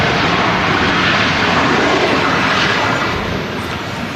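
A TUI Boeing 767 jet airliner taxis at Manchester Airport, its engines producing a loud, steady broadband roar close by that eases slightly toward the end, with no voices.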